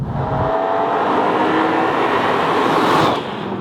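A BMW E46 M3's S54 3.2-liter inline-six with individual throttle bodies drones loudly and steadily as it runs under load, the engine note rising briefly before easing off near the end.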